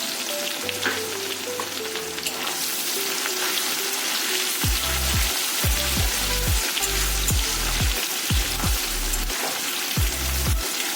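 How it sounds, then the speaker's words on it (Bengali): Chopped onions frying in hot oil with whole garam masala, a continuous close crackling sizzle broken by repeated low thumps and scrapes as the pan is stirred. "নাড়াচাড়া করে দিয়ে দিচ্ছি পেঁয়াজ কুচানো"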